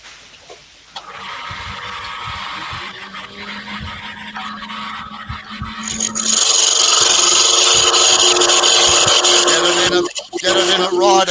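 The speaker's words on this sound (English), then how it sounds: "this is what the roughing out gouge was made for" A roughing out gouge shears wood spinning on a lathe, a continuous rasping scrape that grows louder and brighter midway, steady and close with a brief dip near the end.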